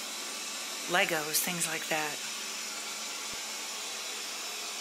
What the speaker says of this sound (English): So the vacuum has made its way to the next room, working away.